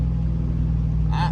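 A 6.2 Silverado with straight-pipe exhaust rumbles with a deep, loud, steady engine drone, and a brief rising rev flares up near the end; a voice talks over it.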